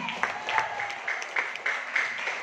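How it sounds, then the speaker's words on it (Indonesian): Audience applause at a marketing plan presentation, light scattered clapping from a modest crowd, fairly soft and close, with a faint voice underneath. "Aplaus untuk kita semua."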